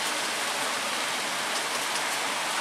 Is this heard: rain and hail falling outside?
yes